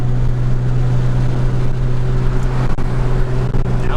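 A modded Nissan GTR sounds from inside the cabin as a loud, steady low engine drone with road roar, running on without a break.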